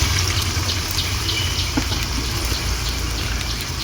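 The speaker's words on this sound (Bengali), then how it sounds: "এখন আমাদের পরিমাণ মতো আমরা পানি দিয়ে নিচ্ছি" Water is poured into a pot of boiled duck meat, making a continuous close gushing, splashing rush that holds steady from start to finish without talk.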